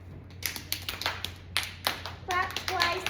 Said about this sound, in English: clap once if you matter.